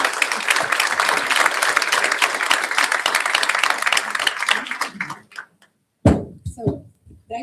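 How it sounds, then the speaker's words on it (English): Audience applause for panelists at a digital skills summit: dense, steady clapping fills about five seconds, then cuts off abruptly into silence before a few scattered thumps and knocks. "Please give them a round of applause."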